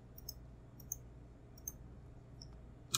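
Computer mouse clicks during Adobe Illustrator work, a few sharp, quiet clicks spaced irregularly over a low steady room hum, with a slightly louder click at the end.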